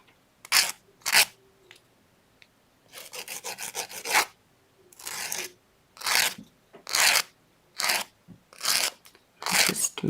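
A hand file rasps across the rough cut ends of pendant wire, rounding the metal in short bursts of harsh scraping strokes, some single and some in quick repeated runs, close and loud with quiet gaps between.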